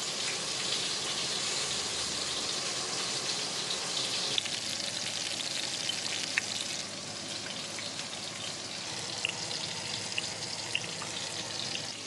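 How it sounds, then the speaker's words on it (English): Chicken sizzling and popping steadily in hot frying oil, a dense continuous crackle with scattered sharper pops, close and fairly loud, no talking. "Chicken's been flipped a little bit. You can see that the oil is just popping off."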